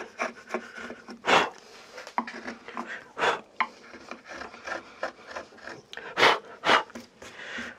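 Wood carving chisel working an olive branch: close, rasping scrapes and short gouging strokes in an irregular rhythm, some cuts louder and sharper than others, with no voices over them.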